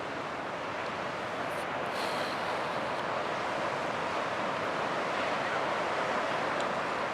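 Storm surf pounds a natural rock seawall at Acadia National Park after a March storm, a steady, loud roar of breaking waves and wash mixed with wind rumble, continuous throughout with no voices.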